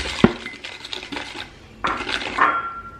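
A utensil knocks and scrapes against a bowl while egg yolk is mixed for a chocolate chiffon cake batter, with a few clinking strokes and brief scraping passes, close up and without speech.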